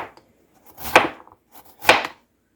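A knife slicing through potatoes, two crisp cutting strokes about a second apart, close and clear against near silence.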